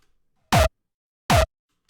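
Two separate hits of a club kick layered with a punch layer, each short and punchy with a sharp attack and falling pitch, spaced under a second apart in otherwise dead silence.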